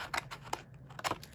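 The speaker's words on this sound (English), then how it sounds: "So I'm just going to trim this down a little bit more." Scissors trimming paper for a scrapbook made from envelopes, several quick crisp snips close by, quiet and without speech.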